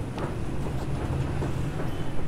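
A metro train in Isfahan, Iran, rumbles steadily with a low rolling roar and faint rhythmic clatter, heard from inside or close by.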